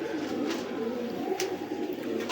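Pigeons coo in soft, repeated throaty murmurs, close and continuous, with a few faint sharper sounds over a quiet background.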